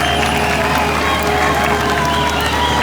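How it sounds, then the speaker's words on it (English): A crowd in Paris cheers and applauds for a wedding couple, a steady wash of clapping and distant shouting that fills the whole stretch without a break. "they're cheering for us, really"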